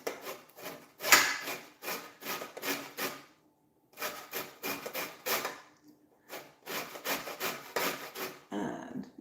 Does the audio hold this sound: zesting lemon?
yes